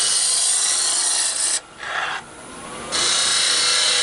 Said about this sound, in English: using my rough and gouge to round that piece